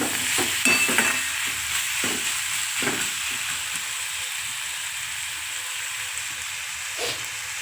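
Tomato pieces cook in a pan: a few quick stirring scrapes at first, then a steady, fairly loud sizzle and hiss that settles into an even simmer.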